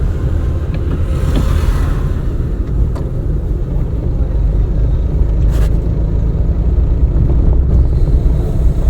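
A car on a driving lesson hums along steadily with a low engine rumble and road noise filling the cabin, the drone continuous through a gear change.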